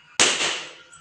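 A single balloon bursts with one sharp, loud, close pop that decays quickly into near silence.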